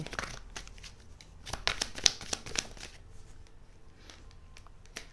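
Tarot cards being shuffled and drawn by hand up close: a rapid series of crisp riffling flicks and snaps, busiest in the middle, then quieter card handling with occasional single slaps, no speech.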